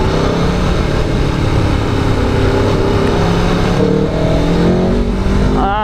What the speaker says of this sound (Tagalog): Grabe yung ugong ng makina.